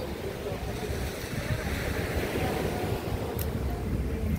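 Rough sea waves wash steadily onto the beach at Wiljurich Beach Resort in Botong, Oton, Iloilo, a continuous rushing surf mixed with wind buffeting the microphone.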